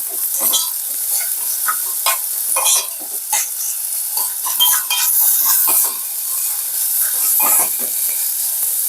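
Chopped onion sizzles and fries in hot oil for a South Indian tempering while salt is stirred in, with a steady close hiss broken by repeated spoon scrapes and stirring clatter.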